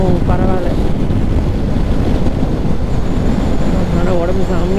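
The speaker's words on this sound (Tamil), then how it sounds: "ஆனால் எதிர்காற்று ரொம்ப பயங்கரமாக அடிக்குது" Strong headwind buffets the microphone while riding a Suzuki Gixxer 250 motorcycle on a long highway run, a loud continuous roar of wind noise throughout with no clear talk.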